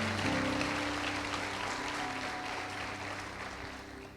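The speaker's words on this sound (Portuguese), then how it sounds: "aplauda o Senhor" A church congregation applauds during a worship service, a dense steady wash of clapping that fills the space evenly and fades slightly toward the end, with no voices standing out.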